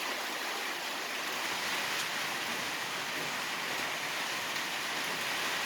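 Steady rain falls outdoors in a continuous, even hiss that fills the whole stretch, with no talk and no breaks.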